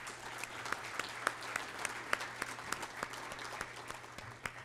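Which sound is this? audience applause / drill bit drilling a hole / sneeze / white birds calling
audience applause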